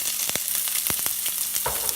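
Mustard seeds, dried red chillies and onion frying in hot oil for a stingray fish stir fry, a close, steady sizzle punctuated by sharp popping crackles of spluttering seeds.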